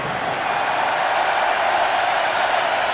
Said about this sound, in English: That roar, those applause for Wilkinson